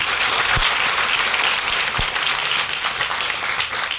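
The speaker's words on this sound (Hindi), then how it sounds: "एक बार तालियां बनना चाहिए।" An audience at a direct-selling training session applauds, giving a continuous, loud wash of many hands clapping with a few sharper individual claps standing out over four seconds.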